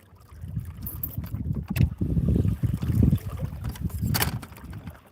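Churning, bubbling water noise from a cavitating trolling motor propeller pulses unevenly beneath a low motor hum, with a few sharp splashy bursts, close by and moderately loud.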